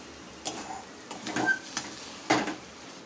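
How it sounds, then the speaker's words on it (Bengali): Okhma cooking in ghee in a pan, with a few scraping stir strokes and a soft crackling fry between them, loud and close, and no talking. "এটা একদম শুকনো শুকনো ভাজা ভাজা হবে।"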